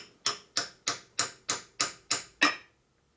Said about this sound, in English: steel hammer, lightly tap it.